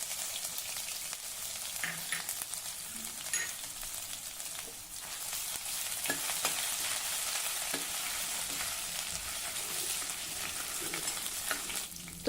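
Mustard seeds, cumin, crushed ginger and garlic fry in hot oil, a steady close sizzle and crackle with scattered small pops running throughout.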